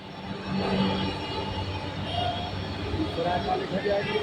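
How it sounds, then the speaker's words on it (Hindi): A low rumbling metro train arriving at a station on another line, steady and moderately loud, with people talking over it. "मेट्रो आ चुकी है ये, बट दूसरी लाइन पर आई है"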